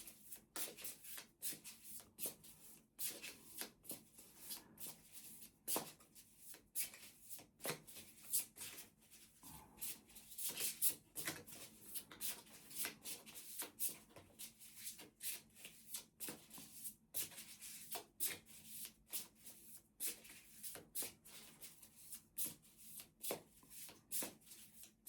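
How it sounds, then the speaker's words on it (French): Oracle cards are shuffled by hand, a quiet, continuous patter of riffles and soft slaps repeating close by for a long stretch. "Je vais tirer une carte"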